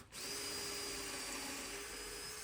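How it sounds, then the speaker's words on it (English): A power drill whirs at high speed in one continuous burst, close and steady, boring into wood. "drill another hole"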